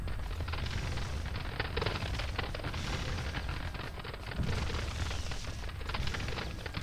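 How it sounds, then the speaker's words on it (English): Cannon fire in a Seven Years War strategy video game, a dense barrage of booming shots rolling over one another in an ongoing battle din, moderately quiet and without talk. "Nothing like a good old fuckload of cannon to start the battle."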